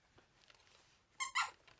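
A dog's chew toy gives two short, sharp squeaks close together, fairly loud against an otherwise quiet background.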